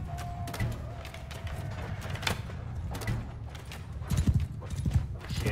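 Horses clip-clop during a battle in the video game Mount & Blade 2: Bannerlord, quick irregular hoof clatter mixed with scattered clanks and thuds at moderate, fairly faint volume.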